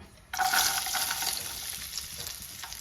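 A sudden loud sizzle bursts in as coconut pieces hit hot oil, then keeps up a steady crackling fry.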